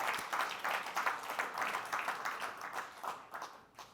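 An audience at a real estate developers' conference inaugural session applauds developers standing on stage, a steady, fairly soft wash of clapping that fades slightly toward the end.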